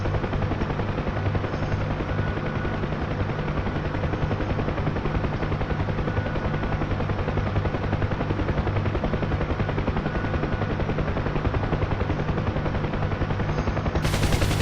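A Huey helicopter in flight fills the scene with a constant, close, loud rotor thump and engine drone, evenly pulsing without a break from start to finish.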